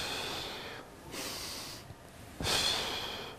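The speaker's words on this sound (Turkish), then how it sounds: "Burundan nefes al, ağızdan nefes ver." A person breathes in through the nose and out through the mouth during a physiotherapy arm exercise, with several soft, airy breaths in a steady rhythm, close and alone.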